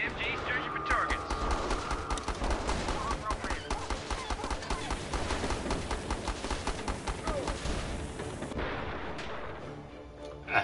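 Sustained gunfire and artillery-like blasts from the strategy video game Battle Islands Commanders, dense and loud throughout, with a voice talking over the din before it thins out near the end.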